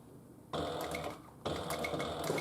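A sewing machine topstitches along the top zipper of a Paulette handbag in two short, fairly quiet bursts of rapid mechanical whirring separated by a brief pause.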